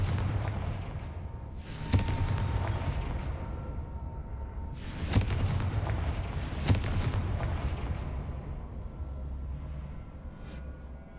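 Spell explosions from the Confringo curse in the video game Hogwarts Legacy: three sharp booming blasts about three seconds apart, ringing over a steady bed of game ambience and rumble, with no talking.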